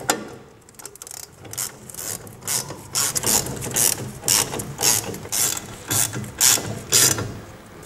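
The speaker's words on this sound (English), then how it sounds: "Then when you're happy they've gone in, we can use a ratchet." Ratchet tightening the front brake bolts on a Triumph Spitfire, a fast run of clicking bursts repeating steadily and close, with no talk.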